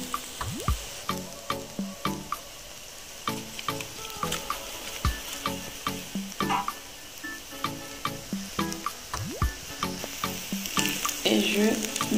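Sardines sizzle in a frying Comorian pilaou, a steady crackling fry punctuated by regular scraping stirs and clinks of a utensil against the pot.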